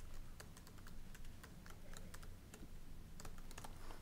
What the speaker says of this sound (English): So if I just type this in, if I can type this morning.